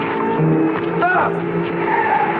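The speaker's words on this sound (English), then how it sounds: "Doug, stop the car." A car skids to a stop with a short tire squeal in the middle, set against a noisy, dense 1950s film soundtrack.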